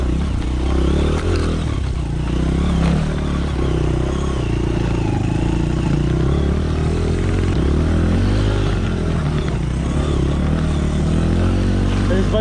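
A dirt bike with a worn original rear tire from 2003 climbs a steep enduro trail, its engine droning and revving loudly and close throughout, with rattles and scrapes from the rough ground and people talking over it.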